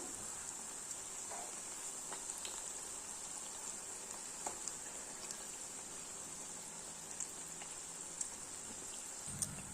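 Jalebi frying in hot oil over low to medium heat, a steady faint bubbling sizzle with scattered soft pops and crackles throughout, close and continuous.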